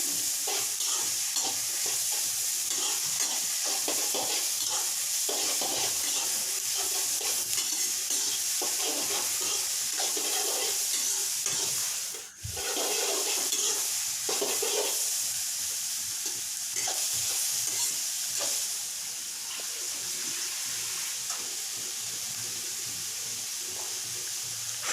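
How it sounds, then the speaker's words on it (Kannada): Tomato and onion stir-fry in a pan for paneer butter masala, a steady broadband sizzle with a spoon scraping and stirring throughout, one brief dip in the middle, no talking. "ಟೊಮೆಟೊ ಮತ್ತು ಈರುಳ್ಳಿ ಚೆನ್ನಾಗಿ ಫ್ರೈ ಮಾಡಿ"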